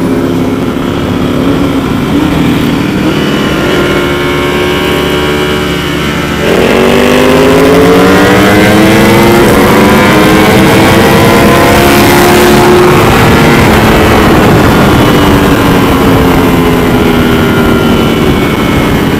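A 1300cc KTM Super Duke and an 1100cc Ducati V4 motorcycle rev hard close by. The engine roar is loud and continuous, and its pitch climbs and sweeps as the throttle is worked.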